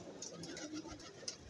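Punjabi pigeons on a rooftop give faint, soft coos against a quiet background, with light rustling and a brief flutter near the end.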